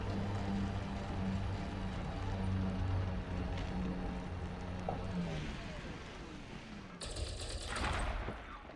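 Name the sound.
weapon fire shooting at a rock, from video game Elite Dangerous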